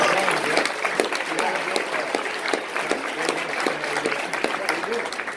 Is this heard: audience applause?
yes